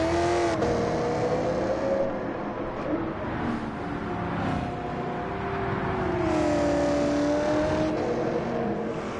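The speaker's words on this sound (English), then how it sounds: "Hellcats sound fantastic with a good exhaust. And they're, like, loud as absolute shit." A Dodge Hellcat with a loud aftermarket exhaust in the Gran Turismo racing game, its engine note droning and rising steadily through sustained acceleration, continuous and prominent with no talk.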